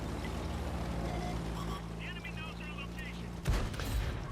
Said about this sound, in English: somebody just shot me from the top of the hill